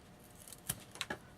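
Scissors snipping off a rolled paper bead at its ridge, a few quiet, crisp clicks spaced close together in a still room.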